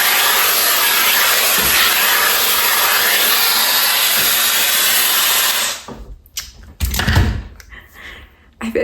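A hair dryer blows steadily and loudly on bleached hair for nearly six seconds, a continuous broadband rush, then cuts off and leaves brief handling bumps and rustles.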